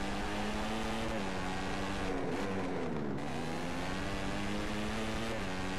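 Motorcycle engine in the MotoGP 14 racing game, a loud continuous droning whine that shifts pitch up and down as revs change, with no talk over it.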